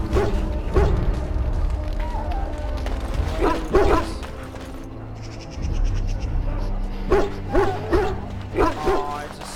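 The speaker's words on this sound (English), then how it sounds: "Oh, it's a sick dog." A sick dog in the Dragon Age: Origins video game whimpers and yips in short bursts between pauses, with game sounds and a voice nearby.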